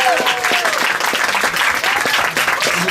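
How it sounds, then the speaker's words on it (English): Audience applause at a poetry reading in a bookstore, dense steady clapping from a crowd with scattered snaps, loud and sustained throughout, with a faint voice briefly audible. "let's please clap, let's snap, let's clap"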